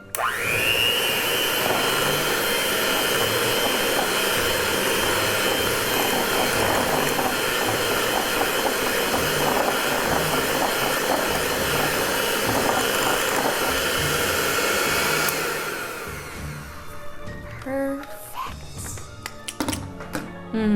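An electric mixer beats pumpkin donut batter in a bowl, giving a loud steady whirring drone for about fifteen seconds before it shuts off, followed by a few clinks and taps.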